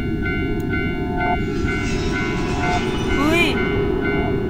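A train rumbles along railway tracks at a crossing in the horror video game Tsugunohi, with a loud steady roar and a rising whistle-like squeal near the end, under a brief startled exclamation from a player.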